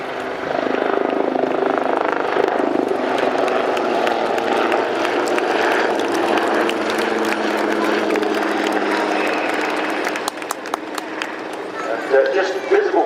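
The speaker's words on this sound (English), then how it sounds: "Running in straight in front of you, the Leonardo Wildcat HMA-2s of the Royal Navy Helicopter Display Team" Royal Navy Leonardo Wildcat HMA-2 helicopters run in at an air show, their steady loud rotor and turbine roar filling the air with a thumping beat, under a commentator's amplified voice.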